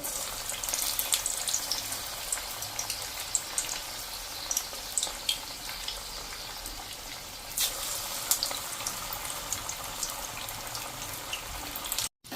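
Radish bhajiya fritters frying in hot oil over a medium flame, a steady crackling hiss with scattered pops throughout, fairly close, cutting off abruptly at the end.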